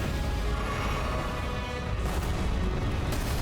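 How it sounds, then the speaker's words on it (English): Mortar bombardment in Elden Ring: dense rumbling explosions and booms roll on without a break, with sharper bursts near the end; no talking. "the mortar bombardment has begun"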